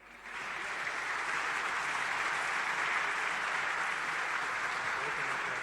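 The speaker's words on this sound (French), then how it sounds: "Je vous demande de l'applaudir." A hall audience at a centenary round-table event in Paris applauds the Lebanese ambassador, a sustained, even wash of clapping that swells in quickly and holds steady.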